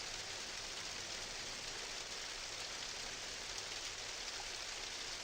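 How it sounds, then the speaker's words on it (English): Steady rain in the Minecraft video game, a dense, even hiss of falling water with no breaks, loud and continuous throughout. "There we go, there's the rain."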